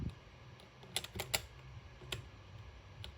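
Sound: keys being pressed on a computer keyboard while playing Roblox

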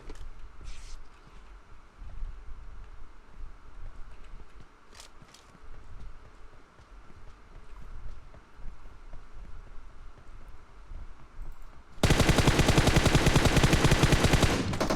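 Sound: gunfire in PUBG Mobile video game

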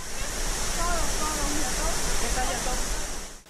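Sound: waterfall at Cascadas del Diablo, Santo Domingo

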